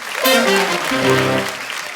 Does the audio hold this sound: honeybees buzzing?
no